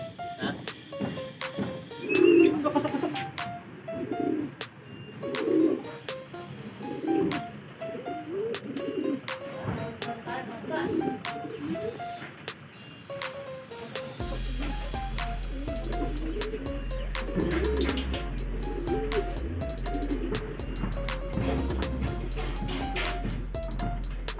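Pigeons coo repeatedly in soft, low rounded calls, with other birds chirping around them; a steady rumbling hum rises in the background partway through.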